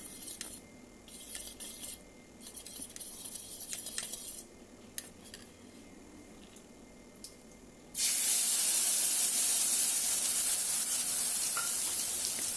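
Coriander, red chilli and turmeric powder paste mixed with water hits hot oil and erupts into a sudden loud, steady hiss that carries on to the end, following quieter kitchen clinks and taps.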